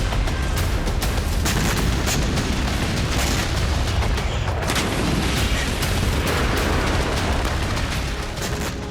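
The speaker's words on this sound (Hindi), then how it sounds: "लेबनान की तरह ही इजरायली सेना सीरिया में भी जबरदस्त विस्फोट कर रही है" Continuous heavy blasts and rumbling booms from Israeli army strikes in Syria, loud and dense throughout with no pauses, like sustained artillery or explosive fire.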